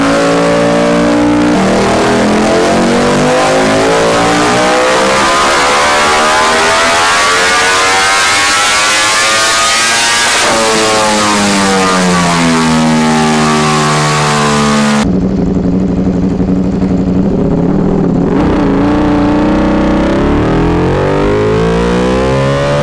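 A Ducati Desmosedici RR motorcycle engine revving loud and close, climbing and falling through repeated high-pitched screaming rev sweeps with a sharp cut partway through, no talking.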